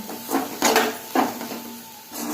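Dried masi fish being stirred in a pan, with a few scraping, clattering strokes of the spoon on the pan coming close and moderately loud, separated by short pauses.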